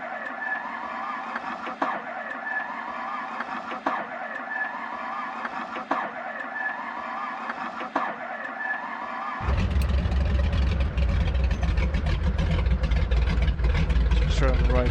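An aircraft engine in a flight simulator, first a rhythmic cranking starter with regular beats, then the engine catching into a loud, steady rumbling drone that fills the rest.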